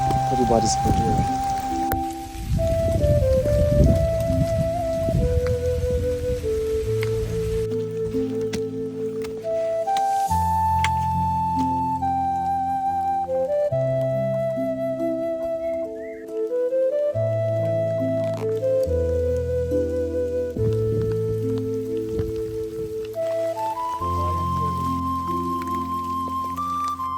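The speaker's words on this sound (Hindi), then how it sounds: "पूरी बारिश पड़ रही है।" Heavy rainfall patters throughout on a Himalayan trek to Chipla Kedar while a slow instrumental tune plays prominently on top.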